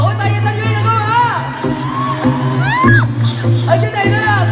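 A crowd at a Yamaha event in Vạn Hạnh Mall claps and cheers steadily while a voice calls out over the noise, with loud amplified music playing throughout.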